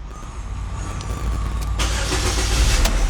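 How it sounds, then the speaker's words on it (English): A 2011-or-later Chevy Equinox engine cranks and catches, then settles into a steady idle, close and fairly loud, with no talking. "Yes, you see, the engine is start"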